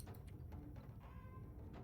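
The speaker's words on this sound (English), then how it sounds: "The cats are meowing in here" Faint cat meows come through a low background rumble, a few short calls in quick succession, quiet and somewhat distant.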